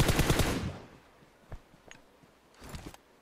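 A burst of rapid gunfire from a shooter video game opens loudly and fades, followed by a few sparse, fainter shots and clicks.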